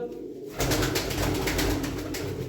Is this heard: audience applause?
no